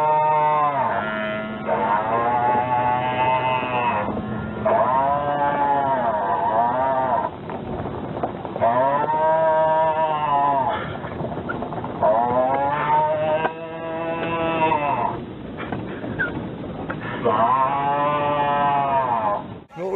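Cattle mooing on a farm as the herd is called in, several long, loud lowing calls close by and repeating throughout, with bawls overlapping one another.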